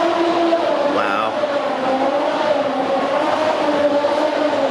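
Wheeled bags roll noisily over building flooring, giving off a continuous loud grinding rumble with a whining tonal edge, close by and steady the whole time.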